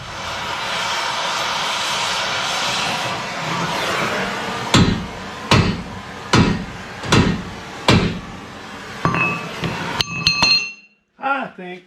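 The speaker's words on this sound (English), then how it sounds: "I'm going to put the hot wrench on it and beat on it a little bit." A hot wrench beating on a metal part to straighten it: after a loud roaring blast, five or six sharp ringing metallic strikes land about a second apart, followed by a few quicker clinks and a short scrape.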